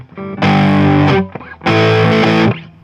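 Distorted electric guitar playing a power chord into a thumb-over chord from Sunshine of Your Love by Cream, two loud sustained strums with a short muted break between them.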